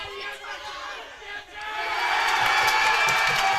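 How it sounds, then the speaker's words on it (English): Crowd at a small-town softball game erupts in loud cheering and whooping, swelling and sustained through the second half, heard from the stands at moderate distance. "And the crowd goes wild."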